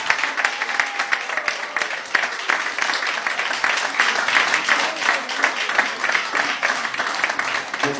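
A church congregation applauding together during a French-language service, a dense, steady wash of many hands clapping that fills the room for several seconds, with faint voices mixed in underneath.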